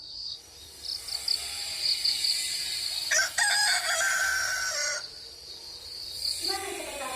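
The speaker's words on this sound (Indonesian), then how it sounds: "Tiba-tiba terdengar ayam jantan berkokok menandakan hari sudah pagi." A rooster crows at dawn, its long call rising and falling across several seconds, with a few shorter cries at the start and end over a constant shrill chirping of crickets in the background.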